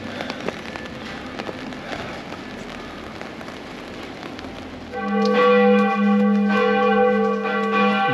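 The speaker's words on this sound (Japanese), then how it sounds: "教会の鐘の音が落ち着きますね。" Church bells peal in an old European town. Faint clanging and street ambience come first, then at about five seconds a loud, sustained ringing begins with long overlapping tones.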